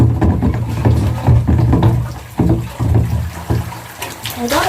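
Old greenish water from an indoor plant's glass poured out into a sink, a steady splashing pour of liquid running continuously with gurgling bursts, close and fairly loud.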